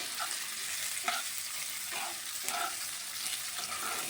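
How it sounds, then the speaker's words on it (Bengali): Poppy seed and tomato masala frying in a pan for butter paneer, a steady close sizzle with occasional scraping stirs of a spatula, no talking. "এগুলো আমি ভালো করে একটু ভেজে নিচ্ছি।"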